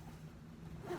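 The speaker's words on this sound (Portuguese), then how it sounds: "Vou fechar o zíper aqui" A zipper being drawn closed on a fabric crib changing pad, a short soft rasping run of about a second, close up and quiet, with a low steady hum in the background.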